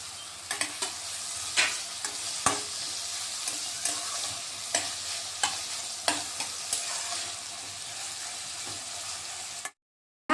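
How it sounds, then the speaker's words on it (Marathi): Potato and tomato sautéing in hot tempering oil for poha, a steady sizzle close by with repeated sharp stirring scrapes at an even rhythm, no talking, then sudden silence near the end. "आता चांगले परतून घ्यायचे फोडणीत"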